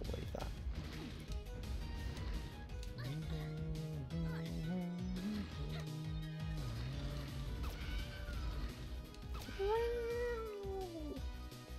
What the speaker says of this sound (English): It's like a cat.